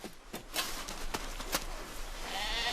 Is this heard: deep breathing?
no